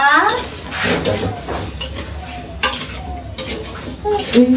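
Food sizzles and fries in a home kitchen pan while being stirred, with loud scraping and clinks of utensil on metal, and voices talking over it.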